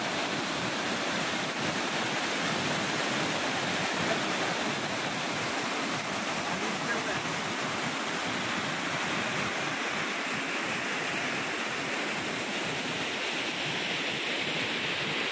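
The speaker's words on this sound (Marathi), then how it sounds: "पाहू शकता पाण्याचा आवाज" A river rushes over a dam spillway in the Konkan region, its loud, even roar of falling water continuing unbroken and close throughout, with no talking.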